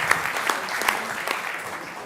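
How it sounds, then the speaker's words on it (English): Audience applause at a city council meeting, heard as a modest, fairly quiet patter of clapping with a few sharper individual claps standing out over about two seconds. "Yeah, you can clap for that."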